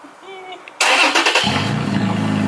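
Faint voices, then a third-generation Toyota Tacoma pickup's engine remote-starts, cranking and catching with a loud burst, settling into a steady, rumbling idle close by through a smaller muffler.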